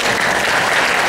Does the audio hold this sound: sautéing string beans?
no